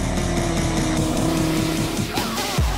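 An Audi RS3 five-cylinder engine drives hard through the Eifel, loud and steady with a pulsing, raspy exhaust note and a brief squeal of tires near the end.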